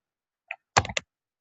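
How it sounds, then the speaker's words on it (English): Calculator buttons are pressed by hand: one light tap, then a quick cluster of three firmer clicks, close and isolated against silence. "let me type this into a calculator"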